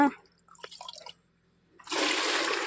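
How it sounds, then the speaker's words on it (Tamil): Rice-washing water for watering plants pours from a jug in a steady, full gush near the end, after some scattered small knocks and handling noises. "கல்நீர் தண்ணி ஒரு மூணு ஜக்கு ஊற்றிக்கலாங்க"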